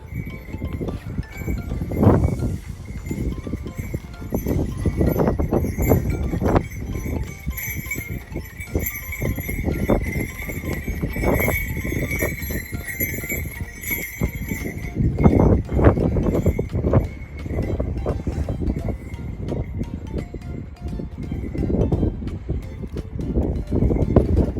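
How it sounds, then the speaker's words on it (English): A horse walks on a rocky mountain trail near Everest Base Camp in Nepal, its hooves clip-clopping in a steady irregular rhythm close by, with faint bell-like chimes and outdoor ambience. "I see someone riding a horse now."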